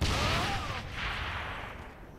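A grenade goes off in Saints Row: The Third, a sharp, loud blast at the start that trails into a rumbling, fading boom over about two seconds.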